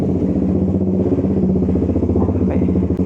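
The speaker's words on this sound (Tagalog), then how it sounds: "nakita nyo nung umandar na yung makina" A motorcycle engine runs steadily after being push-started, a loud, close, throbbing idle with a rapid regular pulse and some mechanical clatter, continuing without a break.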